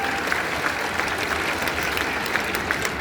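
Audience applause at a Delhi Arya Samaj 150th foundation day ceremony, a steady, dense wash of many hands clapping together throughout, fairly loud and continuous with no speech over it.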